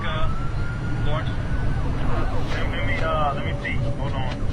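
Police car siren wailing with rising and falling sweeps, fairly loud and close, under people talking.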